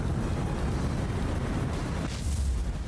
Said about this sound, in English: Oh, okay, we got some explosions.